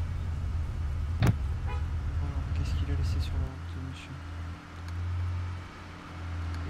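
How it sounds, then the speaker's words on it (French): Car horn honking in a police-themed video game, a single sharp toot over a low engine hum, followed by a fainter continuing drone while people talk. "vous arrêtez le klaxon ou je vous arrête? Pour utilisage abusif du klaxon."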